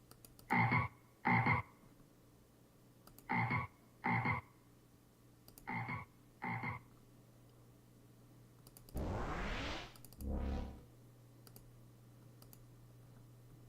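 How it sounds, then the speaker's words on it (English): Frog croak sound effect in an RPG Maker game, paired croaks repeating every few seconds against a quiet hum, followed by two louder splashy bursts. "every 3 seconds, it plays like a frog"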